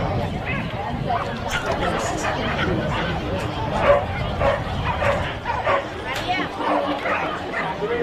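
A working Cocker Spaniel barks and yips repeatedly at the International Agility Festival at Olympia, the yaps mixed into crowd chatter and an announcer's voice in a large echoing hall.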